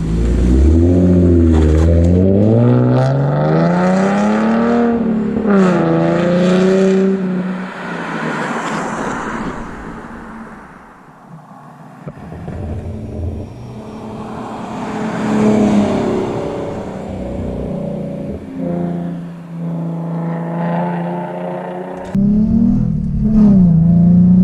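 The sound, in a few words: Ford Mustang Black Transformers Edition exhaust revving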